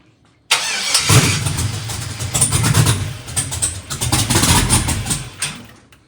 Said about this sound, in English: So all right, so go ahead and ignition on,